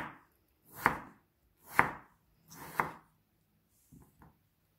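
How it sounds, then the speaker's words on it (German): Potatoes being cut into wedges on a board, with three firm, evenly spaced knife chops followed by two lighter, quicker cuts, close and clear with no talking. "Ich schneide mir das jetzt in Spalten."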